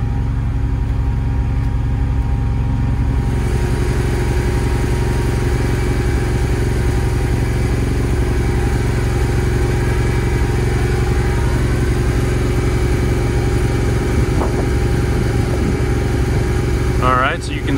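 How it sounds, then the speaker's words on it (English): A Kohler standby generator engine runs steadily with its enclosure lid open, a loud, continuous mid-pitched droning rumble close by with no pauses; a voice speaks over it intermittently. "you'll notice now you clearly hear that engine sound of"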